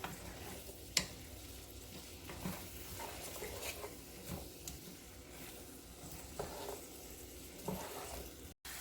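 Vegetables for fried cabbage cook together in a pan: a soft, continuous sizzle with occasional clinks and scrapes of stirring, close and fairly quiet.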